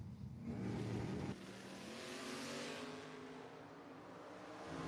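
Drag race cars accelerate hard at a 2025 Independence Showdown drag racing event, a loud, sustained engine roar that swells and then fades slightly as the cars run down the strip.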